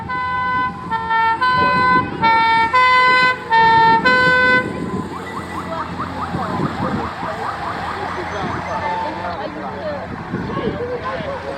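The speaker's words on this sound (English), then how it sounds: "We do have some French sirens in there and all sorts" Fire engine sirens at the Weeting steam engine rally: a loud alternating two-tone siren pulses for several seconds, then gives way to rising and falling wailing sirens over steady engine and crowd noise.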